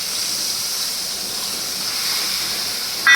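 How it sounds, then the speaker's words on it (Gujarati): Curry leaves hit hot oil for a tempering, producing a loud, even hiss that holds steady close by before a brief sharper crackle at the very end. "એને આપણે વઘાર કરવાનો છે. જો એમાં આપણે કડી પત્તા એડ કરી દઈએ."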